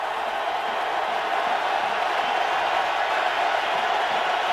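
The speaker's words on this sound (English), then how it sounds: "They just dialed up the intensity of the noise in the stadium." A packed football stadium crowd of about 70,000 roars in a steady, loud wash of cheering noise during a Rams at Packers game, continuous with no breaks.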